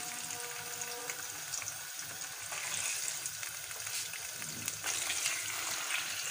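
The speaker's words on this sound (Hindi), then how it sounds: "फ़िश को अच्छे से हमने फ्राई कर लेना है।" Fish sizzles and fries steadily in hot oil in a pan, a continuous bright crackle with occasional stirring or louder spits, close and with no talking.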